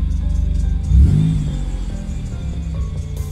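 A car running on E85 ethanol fuel revs up while driving, a steady mid-pitched engine rumble that swells in a throaty surge near the start and then holds a continuous droning whir.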